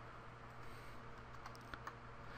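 Soft, close clicks of a computer keyboard as a few numbers are typed, faint and quick over a steady low background hum.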